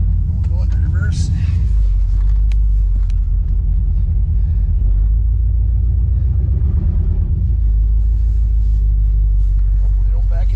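A 1992 GMC 1500 pickup reversing through snow, its engine a loud, close low rumble that holds steady and then eases, with someone talking over it.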